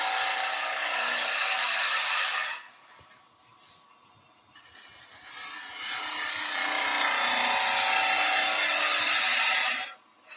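A wood gouge cuts a bowl on a woodturning lathe: a close, steady scraping hiss in two long passes split by a short break, with no talking.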